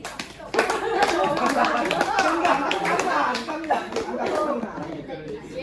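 A group claps hands together at a Catholic rosary recollection camp, dense fast clapping starting after a brief pause and continuing steadily, with children's voices and chatter mixed in.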